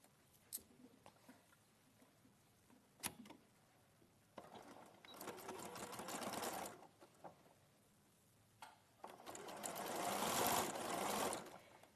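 A domestic sewing machine stitches fabric in two runs, first a steady whirring burst and then a longer, louder one that builds up, with a few sharp clicks and knocks in the quiet between.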